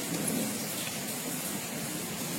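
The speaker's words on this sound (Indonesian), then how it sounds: "dan di luar hujan" Rain falls outside while a television is being repaired indoors, a soft, steady hiss that continues evenly for the whole stretch with no voices.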